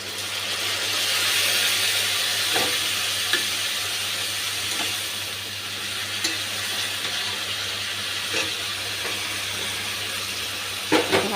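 Onions and tomatoes fry in a pan with a steady close sizzle and hiss, broken by occasional stirring scrapes and small knocks, with no voices.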